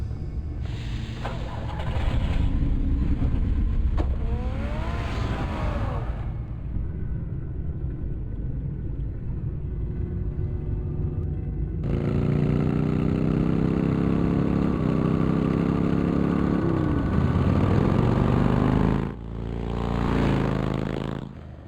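Car engine in the Batman Telltale game, a low rumbling idle that swells and revs at moments, with a louder stretch partway through and brief pauses, heard alone without speech.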